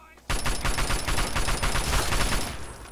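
Automatic gunfire in Fallout 3 erupts suddenly into a rapid, loud, sustained stream of shots rattling close up for nearly three seconds.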